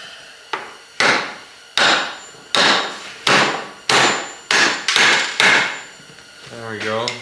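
Nine loud, sharp hammer blows strike wood at a steady pace while splitting apart a part on a 1978 International Harvester Scout II, each ringing briefly before the next, followed by a short creak at the end.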